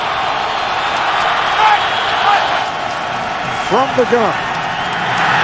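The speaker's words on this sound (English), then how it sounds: "this crowd cheering on the Jets defensive unit" A stadium crowd at a 2013 Raiders at Jets NFL game roars in a steady, broad wash of cheering for the Jets defense, with a commentator talking over it.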